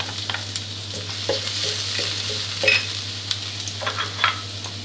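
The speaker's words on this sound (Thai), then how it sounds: "พอกระทะน้ำมันเริ่มจะร้อนครับ ก็กระเทียมครับ ใส่ลงไปเลย" Garlic sizzles steadily in hot oil in a pan for stir-fried macaroni with chicken, with light scraping and stirring clicks from a utensil against the pan; no voices.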